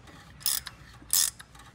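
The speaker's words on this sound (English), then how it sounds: "So now I am running our tap back through our hole and make sure everything goes as planned." Thread tap being run back through a head stud hole in the engine of a 1937 Packard Super Eight, two short metallic ratcheting bursts with light clicks between them, close and alone.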